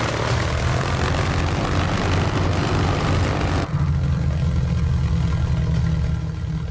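An A6M5 Zero's propeller engine in Microsoft Flight Simulator 2024, a loud steady droning roar as the throttle is slowly brought in, holding constant with a slight shift in tone midway.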